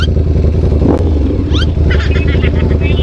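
A Ducati V4S big bike revs loudly and close, its deep engine rumble steady throughout with a few sharp throttle blips, while people talk over it.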